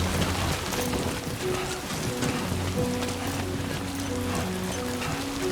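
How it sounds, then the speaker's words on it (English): Rain and wind in the video game Death Stranding 2 make a steady, dense hiss of falling rain with gusting noise, continuous and fairly loud with faint low tones underneath. "Trying to run through these winds in this rain"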